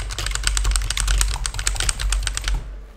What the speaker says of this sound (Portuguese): esse vídeo muito provavelmente vai ter muito som de teclado